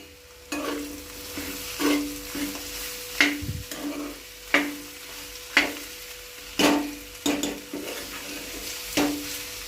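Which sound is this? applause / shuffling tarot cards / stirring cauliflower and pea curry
stirring cauliflower and pea curry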